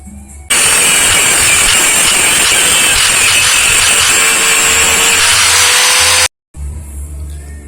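A power tool cutting through a marked section of a motorcycle part on a Vega/Crypton bike, a loud, steady grinding buzz lasting about six seconds before stopping abruptly, with quieter background noise either side.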